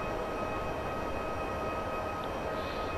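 Continuous interior roar of an NS DDZ double-decker electric train at speed in Train Simulator 2014, with steady rolling rumble, a sustained motor whine and a faint hiss late on.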